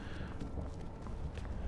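A goat in the video game Skyrim runs in quick, uneven hoof-like thuds over steady outdoor background noise, close and moderately loud.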